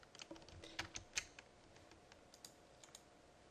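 Quiet, close typing on a computer keyboard, entering a search: a quick irregular run of soft key clicks that thins into a few scattered taps.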